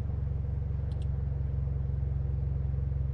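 A Mitsubishi Evo X engine idles steadily with a low, even rumble and a regular pulsing beat, close by and unbroken, with a couple of faint high clicks partway through.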